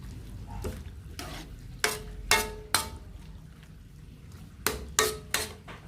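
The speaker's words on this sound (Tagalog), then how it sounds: "Haluin ko siya para magbasa agad yung gulay." Cabbage and other vegetables are stirred in a pan for bihon with corned beef, with a soft sizzle beneath sharp intermittent scrapes and clanks of a utensil against the pan, a few in quick succession.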